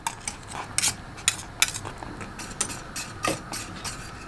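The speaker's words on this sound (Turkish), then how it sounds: "Tereyağı eriyene kadar karıştırıyorum." Cream and butter being stirred in a pot for a cake filling, with irregular clinks and scrapes of a utensil against the metal and a soft bubbling background.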